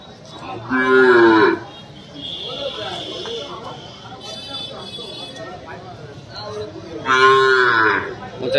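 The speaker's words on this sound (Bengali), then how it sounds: "দেখতেই পাচ্ছেন পুরো কালো গরু আছে।" A cow at the Polerhat cattle market gives two loud, close moos, one near the start and one near the end, with people talking in between and a busy market background.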